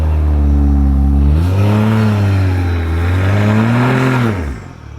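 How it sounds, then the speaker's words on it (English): Ford Mustang 5.0 V8 revving hard with a loud, roaring intake, the pitch rising and falling in long sweeps before cutting off near the end. "listen to that intake"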